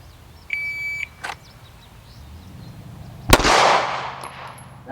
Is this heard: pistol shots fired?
yes